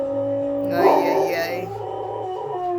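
A dog at home howls and whimpers in a drawn-out, wavering cry lasting over a second, with a person's voice talking around it.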